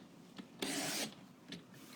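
Paper sheets are cut to size, giving a brief, quiet rasping slice in the middle with a few faint scrapes and rubs on either side.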